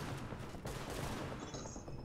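Gunfire in The Division, a steady dense stream of shots forming a continuous fusillade, moderately quiet, with no talk.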